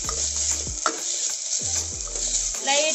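Chopped garlic fries in hot oil over a moderate flame, a steady close sizzle broken by a few soft scraping stirs and light clinks of a spoon against the pan.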